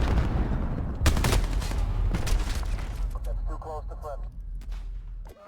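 Rapid bursts of AN-94 hyperburst gunfire in Modern Warfare 2019, loud and close with echoing booms, followed by fainter chattering shots and a short voice near the end.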